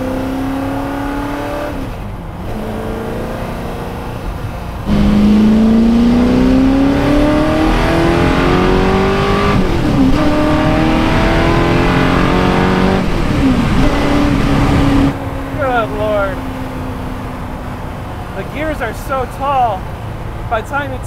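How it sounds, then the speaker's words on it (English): A supercar's engine revs loudly up through the gears, with rising and falling pitch sweeps as it accelerates and shifts, a whining transmission noise running alongside and someone talking over the roar. "You can hear all that transmission noise."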